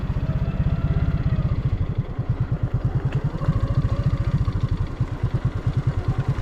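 A motorbike in poor condition with worn, gripless tyres rolls downhill on a steep road, its engine thumping in a steady, close, loud pulsing rhythm throughout with some rattling.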